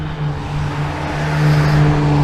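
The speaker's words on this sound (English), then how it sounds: "this guy who feels it's okay to roar by me with a loud engine" A car with a loud engine roars past close by, its steady throaty drone swelling louder toward the end as it approaches, with no voices over it.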